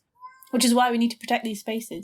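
A loud pet cat meows indoors, drawn-out yowls rising over a person talking nearby, followed by a few shorter cries mixed with the speech.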